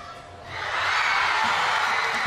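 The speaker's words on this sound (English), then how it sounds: "That's the loudest cheer I've ever heard in Cairo for a left ball." Large crowd at a professional women's squash match in Cairo erupting into loud, sustained cheering and whooping after a rally, swelling within half a second and holding at full volume.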